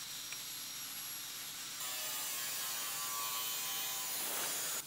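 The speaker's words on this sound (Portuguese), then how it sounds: "O lance é cortar com paciência, sem forçar a esmerilhadeira e o mais próximo possível do risco." Angle grinder cutting galvanized steel sheet, a loud continuous high-pitched whine and hiss that carries on steadily throughout and grows slightly stronger partway through.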